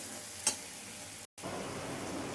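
Spice masala of red chilli powder with a pinch of sugar fries in oil, a steady close sizzle with one sharp spatula scrape early on and a brief dropout midway, with no talking.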